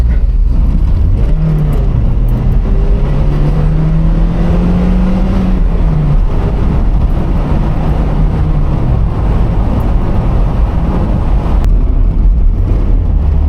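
A Toyota MR2 sports car cruises along a narrow country lane, heard from inside as a loud, steady engine drone with road and wind rumble and a few gentle rises in revs.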